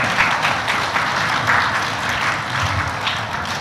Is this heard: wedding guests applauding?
yes